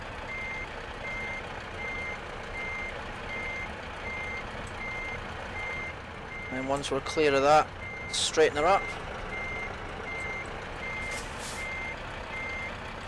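A truck reversing a trailer in Euro Truck Simulator 2, with a steady engine drone and a repeating reversing beep, two bursts of hissing air-brake-like sounds midway, and someone talking over it.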